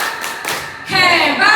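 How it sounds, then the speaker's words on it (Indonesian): A group claps the rhythmic 'tepuk hebat' routine at a school event in Indonesia, with a few sharp claps and thumps followed by a denser burst of clapping mixed with voices. "Oke Bu, tepuk hebat."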